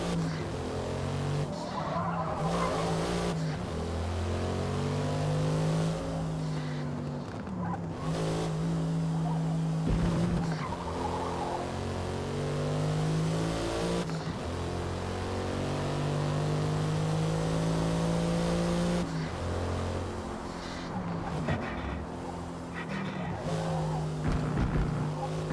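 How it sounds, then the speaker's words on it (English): A race car in Forza Motorsport (2023) with a loud, throaty exhaust revs hard and climbs through repeated upshifts, each gear change a brief dip before the pitch rises again. There is occasional tire squeal under a steady, close engine roar. "every time I hear the particular sound of like this car like shifting gears"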